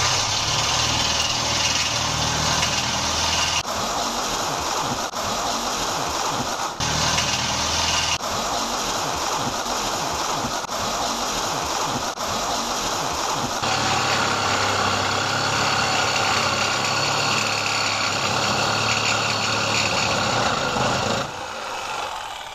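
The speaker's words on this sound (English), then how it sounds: "I am making this cut with the jigsaw, using a piece of aluminium box section as the guide." A jigsaw cuts a strip of sheet material while guided along aluminium box section, producing a loud, continuous buzzing rasp with a shifting pitch partway through before it winds down at the end.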